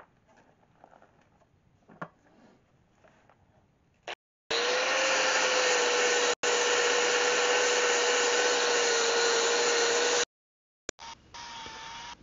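An angle grinder fitted with a 40 grit disc grinds rust off a boat keel, its loud, steady whine running continuously for about six seconds and broken by a brief pause, with quieter scraping before and after.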